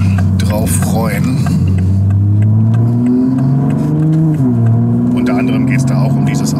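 A Toyota Supra MK5 pulling onto the Autobahn, its engine a loud, close drone that climbs steadily in pitch as it accelerates, dips briefly, then rises again.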